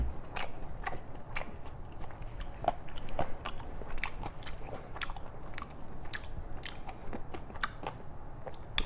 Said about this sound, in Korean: 얇게 썰은 거 이런 게 씹기도 좋고